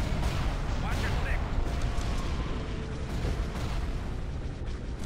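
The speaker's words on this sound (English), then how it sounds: "Switch to your ion cannon and begin firing" Ion cannon fire and explosions boom through a Star Wars space battle video game as a dense, continuous wash of blasts and rumbling, loud and sustained with bright bursts early on.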